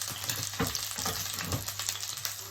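Garlic fries in a pan for a salmon sauce, a steady close sizzle with a few soft stirring scrapes.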